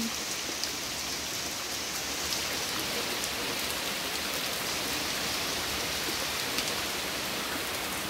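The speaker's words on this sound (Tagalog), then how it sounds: "umulan na naman dito sa Singapore. Biglang ulan." Sudden steady, heavy rain pours down in Singapore, a dense hiss of drops hitting surfaces with a few louder patters, constant and close throughout.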